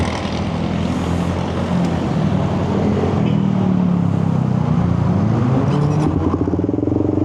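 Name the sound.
engine revving at high RPM after starting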